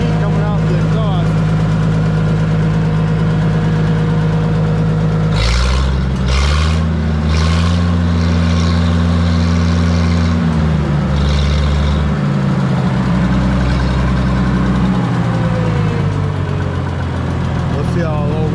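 Allis-Chalmers D15 tractor engine idling up close, warmed up, its steady low throb shifting pitch as the idle is lowered and adjusted, with brief speech-like interruptions over the running motor.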